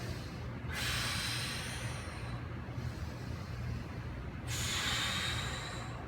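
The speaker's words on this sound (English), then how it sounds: "Deep breath in" Two long, breathy inhales come from close by during an upper-body mobility drill, each a broad hiss lasting a couple of seconds over a steady low background rumble, with no talking.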